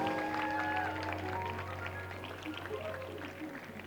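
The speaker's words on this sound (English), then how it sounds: "Please give him a big round of applause." Applause from a school ceremony audience greets a prize winner, a steady wash of clapping heard at moderate distance with faint voices mixed underneath.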